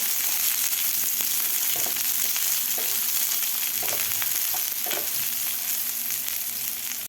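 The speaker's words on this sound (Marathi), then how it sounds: "आपल्याला व्यवस्थित कांदा दोन ते तीन मिनिट भाजून घ्यायचा आहे जास्त लाल नाही करायचा" Sliced onions fry in a hot pan for a spicy fresh green pea curry, a loud, close, continuous sizzle with occasional stirring scrapes.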